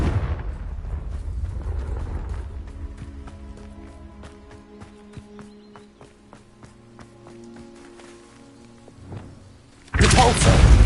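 A Confringo fire-blast spell in Hogwarts Legacy during a Merlin trial goes off as a sudden loud burst at the very end, after a rumbling stretch layered with tonal game music.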